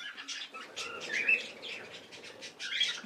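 Budgerigar chicks in a colony aviary chirp and tweet in quick, overlapping high calls, close and moderately loud, over a few seconds of busy chatter.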